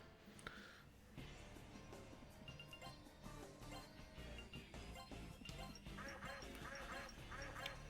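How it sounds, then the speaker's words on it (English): A bird in the Shin Megami Tensei: Persona video game gives a duck-like quack. Several short, faint quacks sit under the game's music and sound effects, with no talking. "We've got birds that quack like a duck, you know?"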